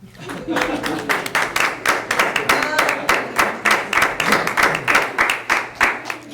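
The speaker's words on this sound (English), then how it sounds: "Applause." Audience applause at a Granville Schools board meeting: a steady run of claps, fairly close and even in rhythm, carrying on for several seconds with faint voices murmuring underneath.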